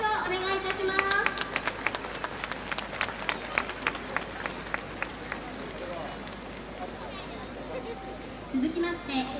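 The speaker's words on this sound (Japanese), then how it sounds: "皆様もう一度盛大な拍手をお願いいたします。" Applause from an audience at an award ceremony during a 2023 dance festival in Machida: a burst of clapping that fades within a few seconds, then low crowd murmur and speech.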